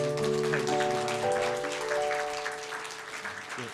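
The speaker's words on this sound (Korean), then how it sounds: "여러분 뜨겁게 박수로서 인사해 주시기 바랍니다" A church congregation applauds newly ordained officers at a Sunday morning worship and ordination service in Haeundae, a steady dense clapping that slowly fades, with organ or keyboard tones sustained underneath.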